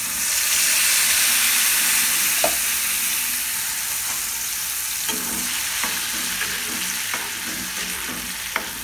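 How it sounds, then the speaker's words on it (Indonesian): Spice paste for cilok sambal frying in hot oil, a loud, steady, close sizzle with hissing steam and occasional stirring scrapes, fading slightly over time, with no voices. "Kalau udah panas minyaknya, kita masukin bumbunya."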